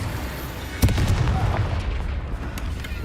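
A fire spell cast in Hogwarts Legacy lands as a sudden booming burst that rolls into a dense, crackling roar of flames and game action lasting a few seconds, loud and close.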